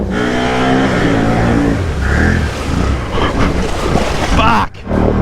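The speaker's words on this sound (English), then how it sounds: "I can feel the tires dig down every time I smack the throttle." An off-road vehicle on mud tires revs hard in low gear, a loud close engine roar that rises and surges with each throttle stab, then cuts out briefly near the end before picking back up.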